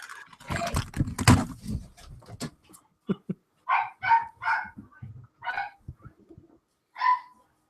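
Several dogs bark and yip at home nearby: a jumble of loud barks at first, then a string of separate, sharper yips and barks in an irregular rhythm.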